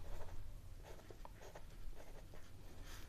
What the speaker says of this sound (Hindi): तो लिखेंगे जग्गूस आंट